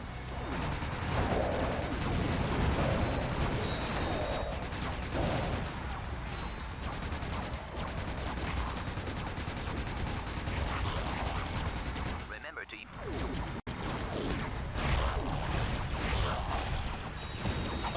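Continuous cannon fire from the Magma Cannon, a Blitz Cannon-style weapon in Ratchet: Deadlocked, booms in a dense, loud barrage of overlapping blasts, briefly dipping near the end before resuming.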